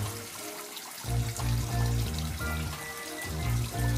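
Warm water pours and splashes in uneven gushes into a sprouting tray of fodder, close and moderately loud, with no talking.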